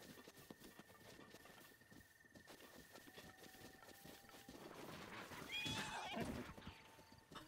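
A horse whinnies and its hooves clip-clop in The Legend of Zelda: Breath of the Wild, quiet at first with a brief louder, nearer burst of neighing toward the end over faint wind and game ambience.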